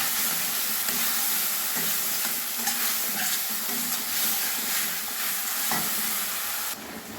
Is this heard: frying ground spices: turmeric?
yes